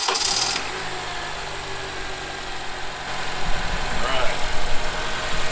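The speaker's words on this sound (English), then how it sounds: "Let's go ahead and start it up, guys. I'll let you guys listen to it with the hood open." A Honda 2.4-liter engine idles with the hood open, a steady close rumble with a light mechanical ticking, growing slightly louder toward the end.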